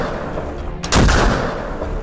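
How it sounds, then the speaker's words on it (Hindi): Gunfire in the hills of Kashmir along the Line of Control, a single loud broadband shot or blast near the middle with a lingering echo over a constant rumbling background. "कश्मीर की पहाड़ियां पाकिस्तानी आर्मी की गोलियों से गूंज रही हैं"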